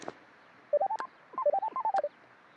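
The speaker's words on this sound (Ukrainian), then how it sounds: "О, прийшло повідомлення" A phone message notification plays two quick runs of short electronic tones, like rapid beeps stepping up and down in pitch, clear and close in a quiet room.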